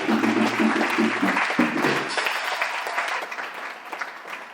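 A church congregation applauding, dense clapping under a voice at first, then the applause thinning and fading out.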